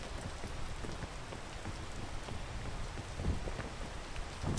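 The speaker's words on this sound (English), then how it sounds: "Oh god, not the rain!" Steady rain falling in the video game PEAK, a dense continuous hiss of drops with a few louder pattering spikes near the end, close and unbroken throughout.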